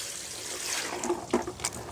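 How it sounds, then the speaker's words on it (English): Water pours and splashes into a container during the setup of a solar-powered water fountain, a close, fairly loud gushing with a few brief sloshing bursts, no speech. "So dump out a little bit of water."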